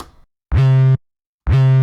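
Two short deep 808 bass notes each slide upward in pitch as they start, separated by silence, punchy and distorted.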